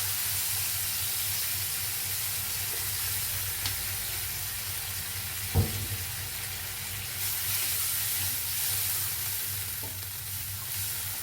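Water splashes into a hot pan of stir-fried morning glory with red curry paste and pork neck, setting off a loud, steady sizzling hiss with a single sharp clack of a utensil partway through.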